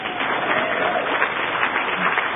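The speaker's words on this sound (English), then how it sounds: "give him a round of applause here" Audience at a live seminar applauding steadily, a dense wash of clapping that holds at full level throughout with no break.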